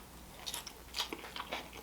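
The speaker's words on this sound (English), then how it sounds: "those vegetables got a nice little crunch to them" Crunchy vegetables being chewed during a meal of noodle dishes: several close, crisp bites and crunches in quick irregular succession, with no talking.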